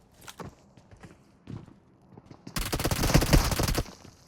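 A DBS shotgun fires in a PUBG Mobile match: a dense burst of loud, sharp blasts comes after a few softer thuds, with no speech.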